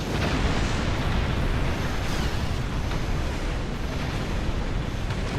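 Huge planet killer vessel exploding in Star Trek Online, a dense continuous roaring blast of broadband rumble that stays loud throughout with no pauses.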